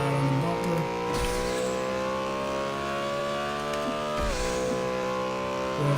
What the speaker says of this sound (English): See how my car drifts, man?